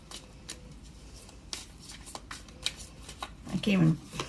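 Tarot cards are shuffled in soft, papery riffles that build to a brief, denser burst near the end, with a voice faintly present.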